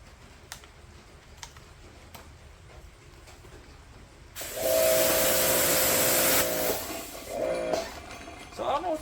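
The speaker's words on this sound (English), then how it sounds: "So I don't know what's been going on with this pressure washer." A pressure washer sprays water in a loud, steady hissing burst of about two seconds with a faint whine, then sputters off and on. Quieter clicks and rustling come before and after, with no speech.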